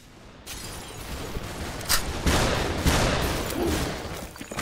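Rapid gunfire from the video game SUPERHOT, a dense continuous burst of shots with sharper cracks standing out, loud and close throughout with no talking.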